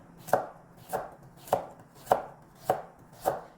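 A knife cuts carrot into thin strips on a cutting board for japchae, six sharp, evenly spaced chops about half a second apart, close and clear with no talking.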